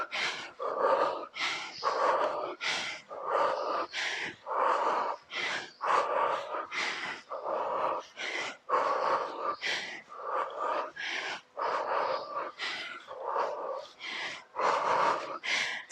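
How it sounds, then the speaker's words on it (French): Heavy, rhythmic breathing after a HIIT cardio workout at home: strong repeated inhales and exhales, audibly gasping and wheezing, close to the mic and sustained throughout with no voices. "Soufflez bien. Reprenez bien votre respiration."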